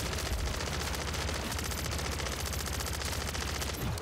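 Continuous loud HRM9 submachine gun fire in MW3 Zombies, a steady rapid automatic stream against zombies lasting throughout, close and unbroken, with no voices.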